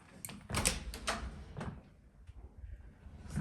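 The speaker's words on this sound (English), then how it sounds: "Doors function on glide." A small storage closet's sliding doors glide along their track in an empty room, producing a few soft rolling and knocking sounds close by, with brief pauses between movements and no talking.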